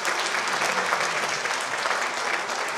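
A church audience at a Morang religious gathering applauds for Pastor Gopal Rai, dense sustained clapping from a crowd, steady and loud throughout.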